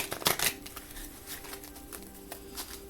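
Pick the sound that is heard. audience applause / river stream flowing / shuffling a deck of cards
shuffling a deck of cards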